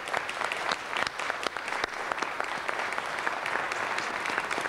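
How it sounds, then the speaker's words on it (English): An audience gives sustained applause welcoming members of the Ethiopian community and an Ethiopian American advocacy group as they stand; many hands clap steadily and densely throughout, with no break. "let's welcome them with a round of applause"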